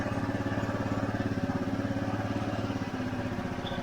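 A Honda Elite 150 scooter engine running with a stuck throttle, a close, steady rapid putter with an even pulsing beat that holds throughout.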